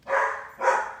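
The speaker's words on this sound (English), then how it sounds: "dog barking." A dog gives two quick, close barks in a row, loud and sharp with a short gap between them, with no voices over them.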